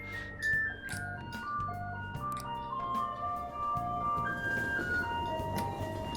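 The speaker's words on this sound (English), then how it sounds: "Oh, fine time for the ice cream truck." An ice cream truck's tinkling jingle plays in the video game Persona 5 Royal, a chiming melody at moderate volume over a soft street ambience.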